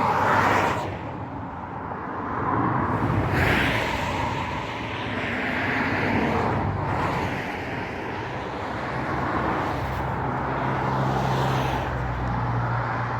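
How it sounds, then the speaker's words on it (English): Steady rumble of busy road traffic on the Cromarty Bridge in Scotland, heard as a continuous broadband roar with passing vehicle swells, fairly loud and unbroken throughout, no talking. "we're going over the Cromarty Bridge, which is, I don't know if you can see it, very, very busy with traffic"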